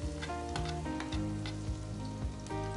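Chopped garlic sizzles in hot oil in a pot for hot and sour soup, a steady close frying hiss with a few scraping stirs and a low tonal hum underneath.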